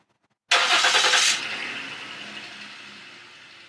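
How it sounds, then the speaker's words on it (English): A car outside swells in suddenly as a loud, close engine roar, holds briefly, then fades into a long, gradually dying rumble as it moves away. "You get to hear the car too."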